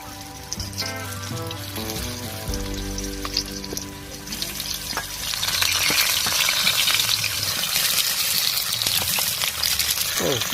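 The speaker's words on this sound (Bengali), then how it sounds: "দেখুন বন্ধুরা কিভাবে লাল লাল করে ভেজে নিচ্ছি।" Pointed gourd pieces frying in white oil in a wok, a steady sizzle that grows louder and denser partway through, with a faint musical tone and soft background voices early on.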